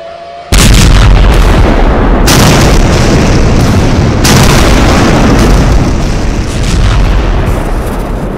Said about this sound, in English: an earth-shattering explosion boomed in the distance